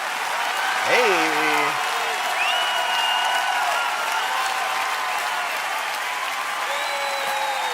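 A live 2004 concert crowd claps and cheers in a dense, steady wash. A few rising whoops and whistles cut through, and a voice calls out briefly near the start.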